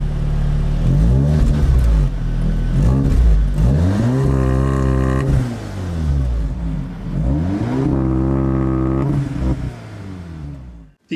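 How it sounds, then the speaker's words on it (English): A 2015 Audi S3 with quad exhaust revs hard in repeated surges, its engine note climbing and falling through several loud, close pulls with a raspy exhaust rattle. "don't forget the quad exhaust make for a satisfying rattle"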